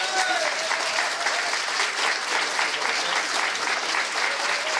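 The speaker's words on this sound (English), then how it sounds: "Round of applause for both our candidates, please." An audience applauds steadily and loudly for the candidates at the October 2019 Delaware County, Pennsylvania, district attorney debate. The dense, continuous clapping fills the room with no voices over it.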